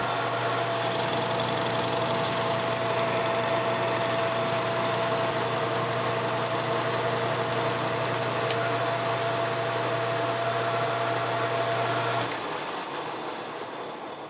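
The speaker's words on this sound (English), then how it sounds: "that's all the machining and the lathe" Metal lathe turning a handmade bicycle U-brake booster, a steady motor hum with a constant high whine and faint cutting noise close by for about twelve seconds, then the machine shuts off and winds down; no talk.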